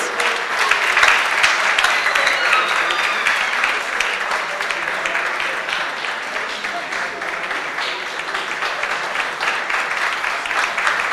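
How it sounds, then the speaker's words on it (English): An audience at a closing ceremony for a science and technology innovation challenge in Ghana applauds the defending champions from Obuasi with sustained, even clapping for the whole stretch, and a few voices sound faintly beneath it. "A round of applause for them, please"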